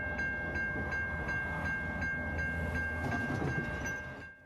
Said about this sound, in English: the 50-plus Autorack train traveling around 10 miles per hour